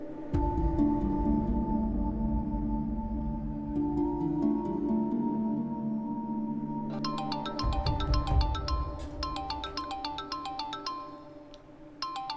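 An electronic phone ringtone plays a bright, repeating melodic pattern, loud and close, with a steady tonal backdrop.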